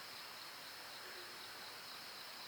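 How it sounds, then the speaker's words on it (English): A steady, faint high-pitched trill of crickets at night in a pine forest, with an occasional cicada, runs throughout, with no other sounds breaking the continuous hum. "listening to the crickets and the occasional cicada"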